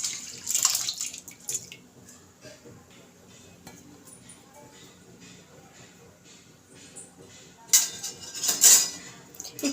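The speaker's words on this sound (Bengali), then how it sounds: "আমি কড়াইতে জল দিয়ে দেবো ডালটা সেদ্ধ করার জন্য" Water and red lentils tipped into a wok for boiling onion masoor dal, giving two short splashing, clattering bursts at the start and near the end with quieter kitchen noise between.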